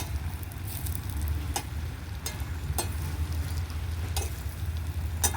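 Gongura and other leafy greens fry in a pan for a pickle, giving a steady low sizzle with a few sharp crackles and pops scattered through, close and without any talk.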